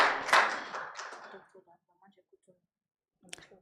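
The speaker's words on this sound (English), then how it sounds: "A round of applause, please." Audience applause at a live business television event welcoming a hospital managing director: a short burst of clapping that fades within about a second and a half, followed by near silence with a few small scattered sounds.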